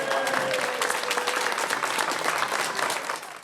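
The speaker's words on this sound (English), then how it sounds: "The applause continued at the reception in the parish center." Applause at a parish center reception, a steady, loud wash of many hands clapping throughout, tapering slightly at the end.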